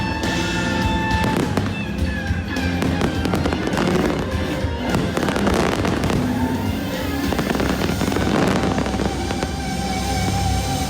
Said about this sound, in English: it was so cool to see it in the fireworks show and stuff at Disneyland